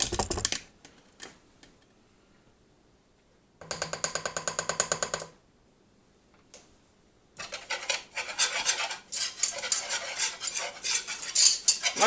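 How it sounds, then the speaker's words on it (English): A flour roux for alligator sauce piquant is stirred in a pot in several separate bursts, a spoon scraping and rasping against the bottom with short pauses of quiet between them. "And then I'll keep on stirring, because you don't want to stop stirring because it will burn on the bottom."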